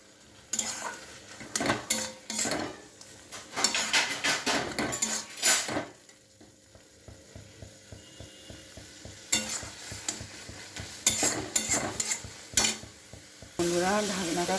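Pre-fried potatoes are tipped into a sizzling spice paste in a pan and stirred, with bursts of metal spoon clatter against the pan over a low steady fry, close by.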